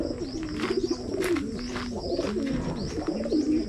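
Pigeons coo repeatedly in soft, rolling phrases at a pigeon toss event in Cabanatuan, with several overlapping calls close by and no talk.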